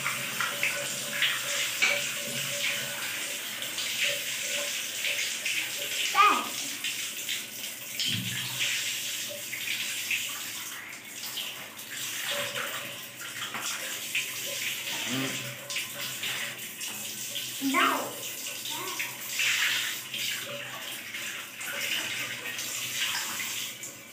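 Steady running water pours from a tap over a Pensonic water filter cartridge being rinsed by hand, a continuous splashing stream with occasional knocks; a voice speaks briefly.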